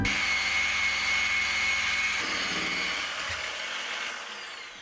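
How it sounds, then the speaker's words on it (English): A power polisher works over a surfboard, giving a steady high whine close by that changes pitch as the pad shifts and gradually fades, with no voices. "I'm finishing this board with a bit of polishing"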